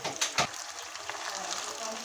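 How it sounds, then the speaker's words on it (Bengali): Spice paste of onion, ginger, garlic and tomato sizzles as it hits onions frying in a pan for mutton curry, with a couple of sharp bursts at the start settling into a steady, moderate hiss. "এখন আমি মশলাটা অ্যাড করে নেব।"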